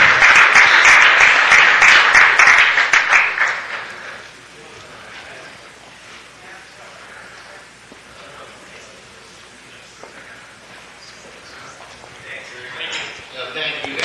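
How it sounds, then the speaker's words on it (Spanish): Brief applause at a city council meeting: a few seconds of clapping from the room, loud at first and quickly dying away into quiet room noise, with faint scattered sounds afterward. "Un aplauso."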